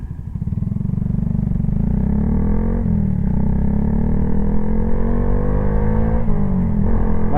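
A Honda Grom motorcycle engine revs up close and loud, a buzzing single-cylinder note rising and holding with throttle blips around the middle and near the end, no voices.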